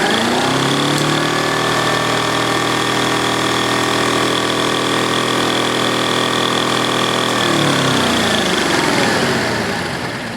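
A 1930 Hoover 800 vacuum cleaner runs loud and steady with a constant motor whine and hum, then winds down as it is switched off near the end, its pitch sliding downward.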